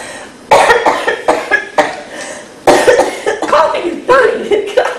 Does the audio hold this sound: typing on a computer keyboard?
no